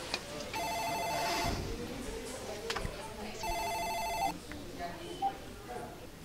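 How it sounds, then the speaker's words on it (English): A telephone rings twice in a bar, each electronic trill lasting about a second with a pause between, moderately near, with faint background voices and clatter. "Hold on, phone's ringing."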